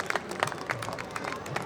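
Audience applause at the Ganga Mahotsav 2021 concert welcoming Pandit Vishwa Mohan Bhatt to the stage, a steady wash of many hands clapping with crowd noise throughout.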